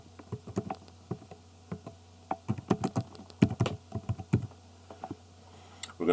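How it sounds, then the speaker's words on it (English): Computer keyboard typing in short irregular bursts of crisp clicks, close and fairly quiet, entering a title in a Wondershare Filmora 9 video editing session, with no talking. "we're going to go on and type Sesame Street in"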